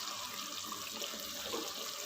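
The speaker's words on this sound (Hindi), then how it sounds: "अब तकरीबन 2 टेबलस्पून के जितना मैं इसके अंदर पानी डाल रही हूँ" Water is poured into a pot of beef trotters (paya) cooking in desi ghee, making a steady close splashing trickle that runs on without a break.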